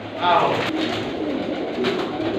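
Grey pigeons cooing close by in a loft, soft repeated low coos with a person speaking over them.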